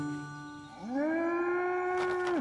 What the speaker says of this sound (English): I'm hearing mooing wherever I go now.